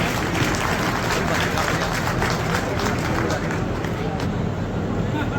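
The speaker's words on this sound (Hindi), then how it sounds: "तालियां बजा करके स्वागत कीजिए महाराज साहब का।" Crowd clapping to welcome the Maharaja at a Maharana Pratap birth anniversary gathering, a loud, dense and steady applause mixed with crowd babble.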